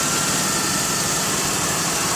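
A 2008 Chevrolet Uplander wheelchair van with a 3.9 V6 idles smoothly, giving a steady, even engine hum at close range with no voices.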